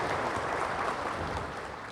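A group of friends claps together in sustained, dense applause, loud and even throughout, easing slightly toward the end with no voices on top.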